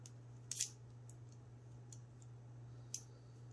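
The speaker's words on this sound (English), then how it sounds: "They do have a little snipping sound," Gerber Suspension NXT multi-tool scissors give a few faint, crisp snips, one sharp cut near the start and another later, with lighter clicks between and a steady low hum behind.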